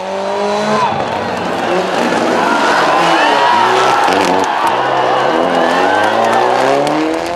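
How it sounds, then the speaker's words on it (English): Loud rally car engines rev and whine as several cars pass close through a tight chicane of tapes and straw bales at the 2007 Safari Rally Kenya, with shifting engine pitch and a crowd murmuring in the background. "the cars negotiated a tight chicane between the tapes and straw bales"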